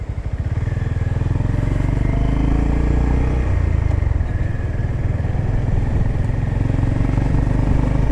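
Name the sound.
Honda GB350S motorcycle engine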